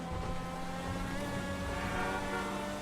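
A Progen MH4 car drives in a video game, its engine a continuous loud, steady drone with a smooth, even tone that holds throughout with little variation, with no voices over it.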